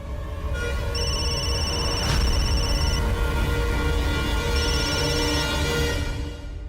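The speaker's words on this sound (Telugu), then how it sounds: "నా ఫోన్ కూడా తీయడం లేదు సాగర్" A phone rings in repeated electronic tone bursts, two clear rings separated by a pause, over a steady background hum, going unanswered at night in a hotel setting.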